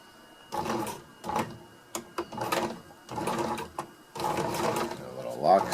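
Sewing machine running a lock stitch on a homemade pack cover, several short mechanical bursts of whirring and clatter with brief pauses between, close by.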